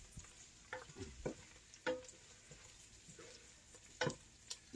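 Onions frying in a pan while collard greens and cabbage are cooked, heard as a quiet, soft sizzle with scattered clicks and taps from stirring, close by and fairly faint.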